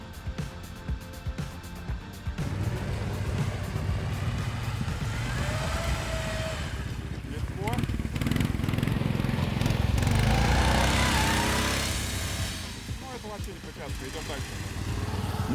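A cheap four-stroke engine drives a sled along a snowy winter forest road, its steady droning hum rising and swelling in the middle and continuing throughout, with a voice talking over it.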